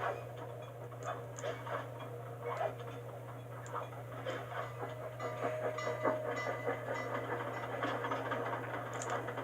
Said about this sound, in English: Don't get hit by the train again.